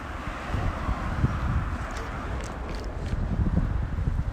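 Cold wind blows in Kyzylorda, a steady broadband rush with rustling and buffeting against the microphone, continuous throughout with no speech.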